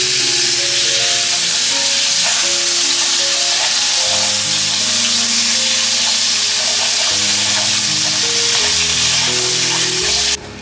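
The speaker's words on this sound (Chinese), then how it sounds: "等油烧热了以后再加羊肉进来" Lamb stir-frying in hot oil in a wok for scallion-fried lamb, a loud continuous sizzle with crackling and stirring scrapes that runs unbroken almost to the end, then cuts off abruptly.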